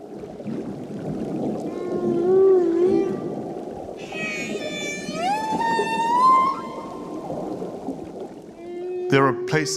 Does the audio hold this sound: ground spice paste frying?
no